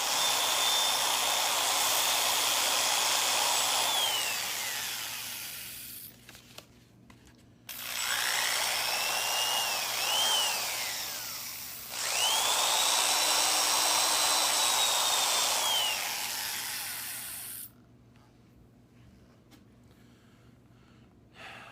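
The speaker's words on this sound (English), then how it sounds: "Now we're going back to sandpaper again. Starting off with the 600 grit." A drill whirs in long bursts with a gritty, abrasive hiss of 600-grit sandpaper against a bone switch tip for a Les Paul guitar, stopping briefly between passes, close and fairly loud.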